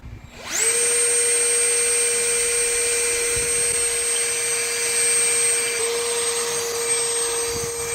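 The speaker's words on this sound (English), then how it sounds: "let's drill out a rivet and put this in" A power drill whines steadily, spinning at a constant high pitch while drilling out a rivet on the vent window of a 1964 Ford Thunderbird, loud and close, running without pause for several seconds.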